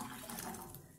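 Water poured from a pot into a cooking vessel, a steady rushing splash that fades slightly toward the end, with no voices over it.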